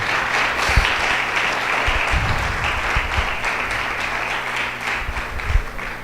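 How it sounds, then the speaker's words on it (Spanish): A church congregation bursts into loud, dense applause, a sustained wash of many hands clapping close and full throughout, with no pause or speech rising above it. "Dele un aplauso fuerte al Señor por eso."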